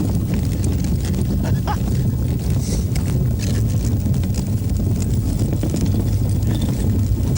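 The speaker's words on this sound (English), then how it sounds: "This is downwind sailing." Wind rushes steadily over the microphone aboard a sailboat running downwind on a river, a dense, unbroken roar with low rumble and water noise throughout.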